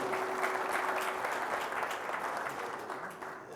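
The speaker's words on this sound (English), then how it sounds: "the membership deserves a really a round of applause for yourselves too" Meeting members at a community association gathering applaud themselves, a steady roomful of clapping that holds for several seconds and gradually softens toward the end.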